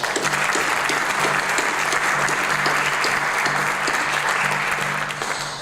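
An audience at a National Technical Honor Society induction ceremony claps loudly and steadily in a hall, a dense wash of applause holding throughout before easing slightly at the end.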